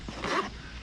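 A YKK zipper on a 27-liter tactical backpack is pulled in one quick, close rasping stroke with no talk.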